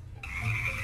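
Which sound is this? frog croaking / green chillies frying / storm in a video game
frog croaking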